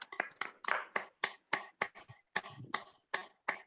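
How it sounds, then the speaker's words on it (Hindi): Applause greets Banti Rawal, an RCM business speaker, as he is welcomed on stage: a few hands clapping in sharp, uneven bursts, close and fairly loud, with no talk over it. "जोरदार तालियों के साथ"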